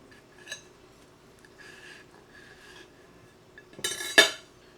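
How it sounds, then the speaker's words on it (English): Cutlery taps and scrapes quietly on a plate while cutting into an ackee and saltfish stuffed dumpling, with a few soft clinks, then a louder scrape and a sharp click of metal against the dish near the end. "I'm gonna cut into it"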